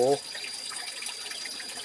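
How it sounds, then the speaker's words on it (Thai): Steady broadband rush of stream water flowing at Huai Hin Tat creek near Ban Na Ang, continuous and moderately close, with a brief voice at the very start. "น้ำกับสีไหลตลอดนะ ห้วยนี่ไหลเป็นปีพี่น้อง"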